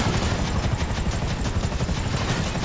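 A helicopter in the game GTA 5 drones with a steady rapid rotor chop, loud and close, with faint crackles of gunfire underneath and no talking.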